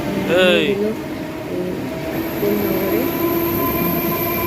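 Steady rumble of a Howrah–Bardhaman main line local passenger train in motion, with a brief whistle-like tone near the start and voices faintly underneath.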